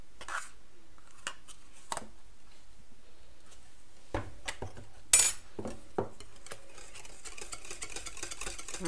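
Utensil clinking and scraping against a bowl while crème fraîche is stirred into coconut cake batter, in scattered short bursts with quiet gaps between, close by and fairly soft.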